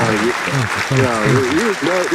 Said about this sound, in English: I'm going to give him a hand clap.